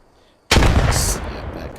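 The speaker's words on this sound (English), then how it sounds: "That was a good grenade." A grenade goes off in the World War II shooter Post Scriptum during a night mission, a sudden heavy blast that booms loudly and rumbles away over the following second.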